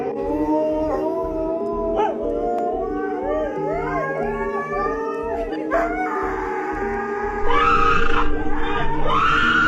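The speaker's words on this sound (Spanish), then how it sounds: "No eran ladridos normales. Eran demasiado profundos, como si vinieran de algo que no era un perro." A deep, unnatural dog sound effect of howls and low barks over a pulsing, rhythmic low rumble, with layered wavering howls that grow louder near the end.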